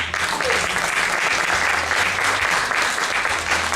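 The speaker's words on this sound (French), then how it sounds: "On peut vous applaudir." Audience applause at a blues festival in its 19th year, held with the town of Méricourt: steady, dense clapping from a crowd, sustained and fairly loud throughout, with a low hum underneath.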